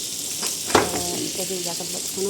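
Butter melting in a pan gives a steady close sizzle with crackling spits and one sharp utensil knock early on.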